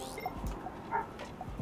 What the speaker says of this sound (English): I apologize for the dog that's just constantly barking in my ear